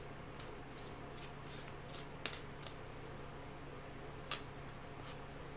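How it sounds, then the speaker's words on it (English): Tarot cards are shuffled by hand in soft, quick riffling bursts with a couple of sharper snaps, faint and close over a low steady background hum. "Shuffle a little bit more."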